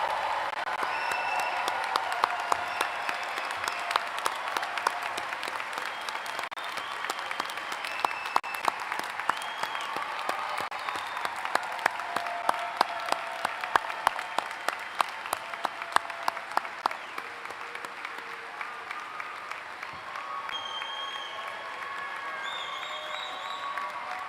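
Long, steady applause from a large audience for graduates at Emory University commencement, many hands clapping in a dense wash with scattered sharper claps and faint cheers, lasting throughout at moderate level.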